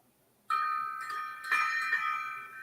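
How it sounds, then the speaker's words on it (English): A gong struck during a live talk show, one sharp ringing hit followed by a sustained metallic shimmer that swells again midway and slowly decays, alone with no talk. "We'll give it a gong."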